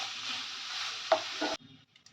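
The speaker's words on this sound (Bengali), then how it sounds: "এবার গ্রেট করা পেঁপেটা আমি দিয়ে দেব এটা দিয়েও আমি এবার কিছুক্ষণ আমি ভাজা ভাজা করে নেব পেঁপেটা" Grated papaya sizzles steadily in a hot pan for a vegetarian dish, with a brief scrape of stirring near the end before the frying noise cuts off sharply to near quiet.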